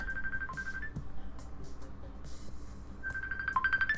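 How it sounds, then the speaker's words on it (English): A ringtone from the video game Blooming Panic chimes in a repeating electronic pattern, loud and close, cutting off briefly in the middle before resuming over a low background bed. "I really need to take that phone call"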